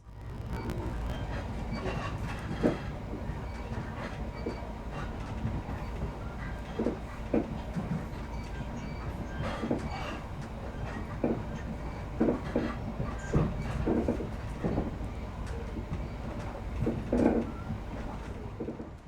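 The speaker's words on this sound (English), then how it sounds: "Ride quality on board the SR coaches is reasonably smooth, but they have a tendency to lurch and sway" On board a Te Huia passenger train of SR coaches hauled by DFB 7295 locomotive, a steady low rumble fills the cabin, punctuated by irregular clicks and knocks from the wheels and couplings.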